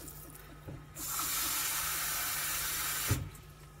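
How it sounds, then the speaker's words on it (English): Water pours steadily for a couple of seconds into a pot of Nepalese black-eyed bean and bamboo shoot curry, a close, even rushing hiss that starts and stops abruptly with no talk. "And also gonna add some water."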